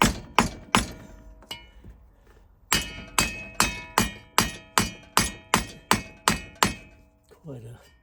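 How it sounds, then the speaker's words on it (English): A series of sharp, loud hammer blows on the back of a wooden block, assembling a model steam tram's burner tank, some spaced unevenly at first, then a steady run of about ten evenly timed strikes. "I'm going to have to use a hammer on the back of the block of wood"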